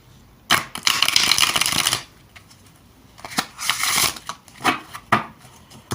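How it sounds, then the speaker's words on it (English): A tarot card deck being side shuffled: a long, dense riffling burst of card flicks, then a pause, then several shorter crisp shuffling bursts close by, with no voices. "I prefer the side shuffle, and this sound is also an indicator of good quality."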